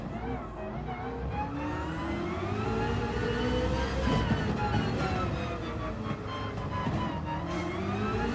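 A car engine in Gran Turismo 7 drones steadily with rising and falling revs, loud and continuous throughout, with a faint voice underneath.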